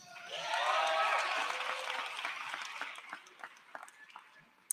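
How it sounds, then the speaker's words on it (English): Applause at a Hackensack Meridian School of Medicine commencement for medical graduates, a broad wash of clapping from a large crowd that swells quickly, then gradually thins to scattered claps. "let's give those 4 students, not 3, another round of applause"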